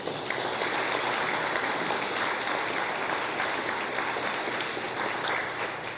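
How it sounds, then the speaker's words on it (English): An audience at a 2018 annual report roll-out event gives a round of applause, a dense, steady wash of clapping that holds at an even level throughout. "give them a round of applause"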